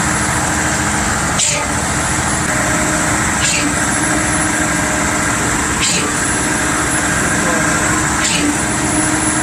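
Concrete mixer trucks idle and rumble steadily at a slab pour, a loud continuous engine drone with periodic hissing bursts and clanks, while people talk over it.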